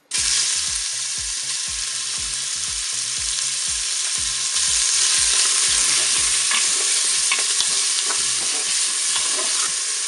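Tuna pieces fry in hot oil inside a Cookeo multicooker pot, giving a loud, steady sizzle with rapid crackling and a regular low ticking pulse from the appliance running beneath it the whole time.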